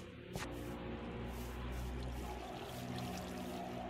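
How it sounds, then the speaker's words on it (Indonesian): Waterfall in the Minecraft video game, a continuous rushing pour of water with a steady low roar, moderately quiet and unbroken throughout. "Wah, ini air terjun di mana?"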